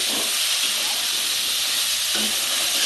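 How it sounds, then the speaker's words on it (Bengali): Okra (bhindi) frying in a pan for a Bengali-style bhindi pyaz with onion and tomato, giving a steady, dense hiss and sizzle with a few faint low knocks, close and continuous. "ভেন্ডিটা আমার একটু বেশ ভালো করে ভাজবো আমি"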